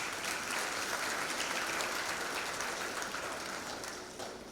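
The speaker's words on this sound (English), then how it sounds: "Let us applaud the graduates" Applause for graduates at a 2024 graduation ceremony: a steady, dense round of audience clapping, fairly distant and continuous, tapering off slightly at the end.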